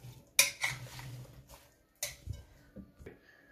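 Fruit salad of bananas and plums being mixed in a bowl, a few sharp clinks of a spoon against the dish followed by soft stirring, close and fairly quiet, with no talk.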